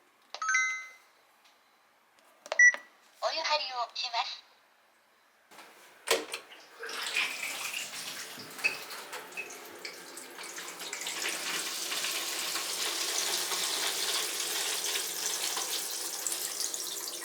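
A few electronic beeps and chimes sound, then water starts running steadily and keeps flowing, a continuous hiss filling a tub. An automatic bath that heats its own water fills in an apartment in Osaka, Japan.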